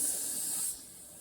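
Water sprays steadily from a sink nozzle while hair is rinsed, a close hiss that cuts off abruptly partway through into a quieter background.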